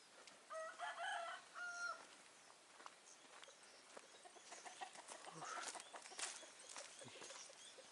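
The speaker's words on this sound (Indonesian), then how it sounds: "Suara-suara ayam." Chickens cluck and a rooster crows in a forest settlement in Banyuwangi, faint and fairly distant, with scattered calls over quiet outdoor ambience.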